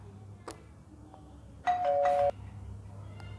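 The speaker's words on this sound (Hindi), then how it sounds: "डोरबेल अभी जो बजती है ना, यूं यूं उंगली मारने वाली बैल वो" A push-button electronic doorbell rings twice, two quick bright chime tones in a row after a few faint knocks, close and clear over a low steady hum.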